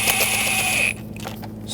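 A hand ratchet clicks in quick, steady strokes while tightening the air intake bolts on a 2011-2016 Ford F-350 with the 6.2L V8, then stops abruptly, leaving lighter mechanical ticks under a constant tonal hum.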